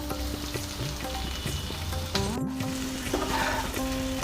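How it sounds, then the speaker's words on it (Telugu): Gooseberry pieces cooking with sugar in a pan on low heat, a soft sizzle under gentle stirring scrapes and clinks of a utensil, close and fairly quiet, with a faint tonal hum in the background. "షుగర్ మెల్ట్ అయ్యేంత వరకు సిమ్లో పెట్టుకొని కలుపుకోవాలి"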